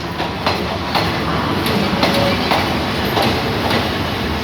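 A train hauled by a GEA locomotive rolls past nearby at Bangkok station with a steady rumble and regular clickety-clack of wheels over rail joints, loud and continuous.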